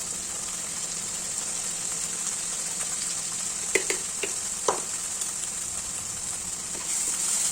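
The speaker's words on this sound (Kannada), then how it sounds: "ನಾನು ಇದನ್ನು ರುಬ್ಬಿಟ್ಕೊಂಡಿರುವ ಕೊಬ್ಬರಿ ಮಸಾಲೆನ ಇದಕ್ಕೆ ಹಾಕಿ ಫ್ರೈ ಮಾಡ್ಕೊತೀನಿ." Ground coconut masala fries in oil for a mutton gravy, giving a steady close sizzle and hiss with a few light scrapes of stirring.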